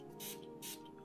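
Makeup setting spray pumped from a bottle in two sharp, airy hissing bursts with an aggressive, hard spray rather than a soft mist, close and fairly quiet, with no talking.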